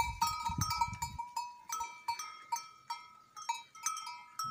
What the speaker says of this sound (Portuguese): As ovelhas ficam aqui no curral, ó.